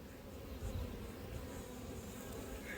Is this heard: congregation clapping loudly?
no